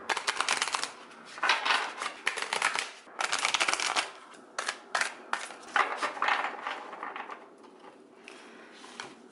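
Cards from a large indie oracle deck being shuffled by hand, giving bursts of crisp riffling and flapping in uneven clusters, close and fairly loud, with short pauses between passes and no talking.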